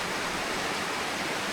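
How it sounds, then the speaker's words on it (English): A stream flows down a coastal valley toward the sea in Cornwall, a steady broadband rush of water, close and even, with no voices. "third stream that I've come across like this, that kind of winds its way down the valley straight into the sea"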